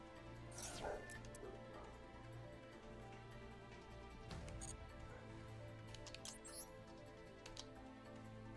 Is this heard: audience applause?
no